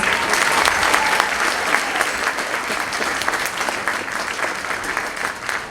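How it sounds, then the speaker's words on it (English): Audience applause for a 7th grade choir at a school choir concert, sustained many-handed clapping that holds steady and thins slightly near the end. "let's give a round of applause to our 7th grade choir, please."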